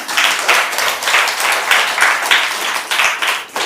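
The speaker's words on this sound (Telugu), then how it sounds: "ఒకసారి గట్టి క్లాప్స్ కోసం." An audience claps loudly at a public gathering in Dronachalam, a dense, close burst of applause that stays steady throughout with no voices over it.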